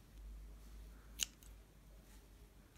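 A single crisp snip of scissors cutting through folded threads, short and close, against near silence.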